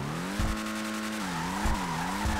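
A Toyota Tundra NASCAR stock car in GTA 5 Online drones at a steady engine pitch that dips and rises, while tires squeal and skid in short bursts.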